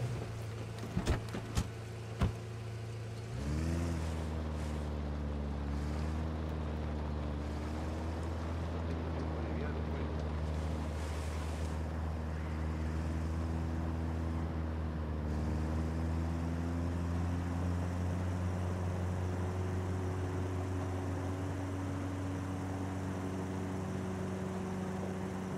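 A car's engine in the video game Ghost Recon Wildlands starts up and drones steadily as it is driven, with its pitch rising and shifting through gear changes, loud and continuous after a few brief clicks.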